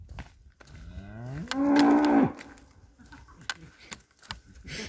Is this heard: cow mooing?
yes